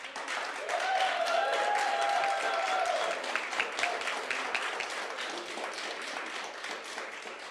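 A crowd cheers and applauds loudly at an announcement of new school projects for Edmonton in Alberta, the dense clapping building early, holding steady, then easing slightly toward the end.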